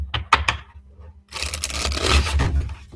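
A few sharp riffling bursts, then a longer rapid flutter of cards being shuffled close by, with no talking.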